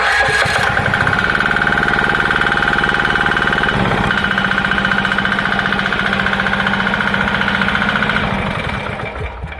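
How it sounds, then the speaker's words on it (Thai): A Kanto KT DP630 key-start diesel water pump engine cranks and catches, then settles into a loud, close, rapid knocking idle that holds steady before easing slightly at the end, with no voices over it. "เปิดสวิตช์แล้วก็บิดสตาร์ทได้เลยครับ"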